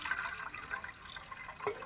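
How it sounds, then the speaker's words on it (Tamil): Purified sulfur washed in water, with a soft continuous splashing and trickling of liquid, close and fairly quiet, with a brief stronger pour near the end. "இப்போ வந்து தண்ணியில் வாஷ் பண்ண போகிறோம்"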